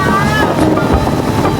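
A speedboat cruises over water on a first ride, its engine drone and hull rush blending with wind buffeting the microphone in a loud, constant roar.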